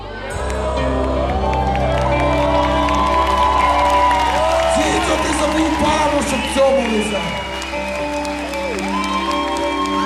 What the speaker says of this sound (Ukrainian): Ваші оплески для молодої пари